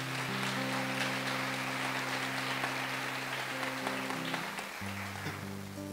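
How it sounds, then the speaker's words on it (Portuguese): A church congregation claps together after a scripture reading, a sustained crackle of applause heard under steady, held organ or keyboard tones that shift near the end. "Vamos aplaudir esta santa palavra."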